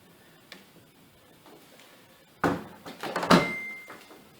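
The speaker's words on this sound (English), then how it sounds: "Let's just shut the door again." Door of a Samsung DV90H8000HW condenser tumble dryer is pushed shut, a soft click followed by a louder clunk and rattling latch sounds, close by in a quiet room.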